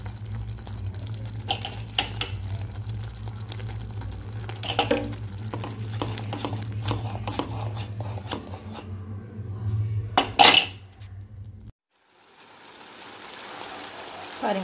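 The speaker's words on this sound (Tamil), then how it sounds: "பேஸ்ட் பண்ணி வச்சுருக்கிற முந்திரி பருப்பு சேர்க்க" Cashew paste being stirred into paneer butter masala gravy in a pan, with a steady low sizzle and repeated scraping, tapping spoon strokes against the pan, ending with a brief clatter and then quiet.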